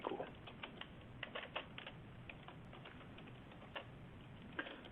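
Code is typed on a computer keyboard, a quick, irregular patter of close key clicks with short pauses, fairly faint and with no voices.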